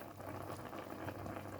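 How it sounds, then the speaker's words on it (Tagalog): Chicken adobo boils hard in a covered pot with palm sugar about to go in. The bubbling is a steady, dense roar of popping and gurgling that stays even throughout, with no voices over it. "kumukulo na siya ng bonggang-bongga"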